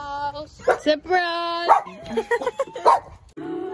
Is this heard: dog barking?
yes